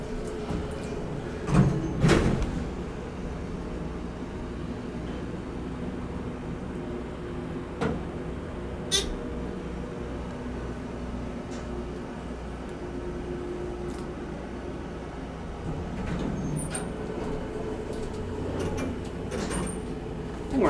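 Inside a 1990 Dover Impulse hydraulic elevator at a shopping mall in Cherry Hill, NJ, a steady low hum of the car running, with a few sliding-door thumps and clunks early on and near the end.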